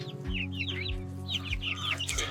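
Turkey calls and gobble-like chatter repeat over a low steady hum, several large turkeys vocalizing close by on a homestead with no talking.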